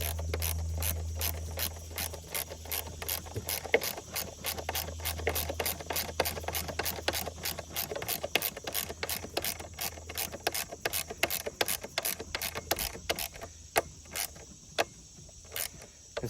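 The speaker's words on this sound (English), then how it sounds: "And now I can finish tightening all of these down." Ratchet wrench clicking rapidly in steady runs while tightening bolts on a chrome bumper for a Mercedes W126, close and clear with a low hum underneath and no talk.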